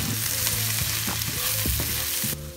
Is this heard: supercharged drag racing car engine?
no